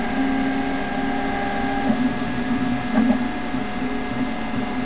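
A Creality K1C 3D printer starts up and heats, giving a steady close mechanical hum with faint fan whir and a few soft clicks and bumps.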